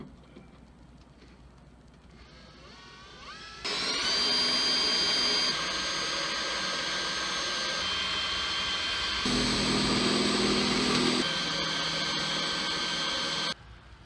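Power drill with a small bit drilling out rivets on a 1997-2002 Ford F150/Expedition window regulator, a steady high whine running for about ten seconds with a shift in pitch partway through.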